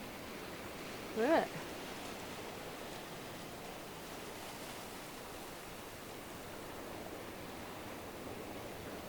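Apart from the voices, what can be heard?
ocean waves breaking on the shore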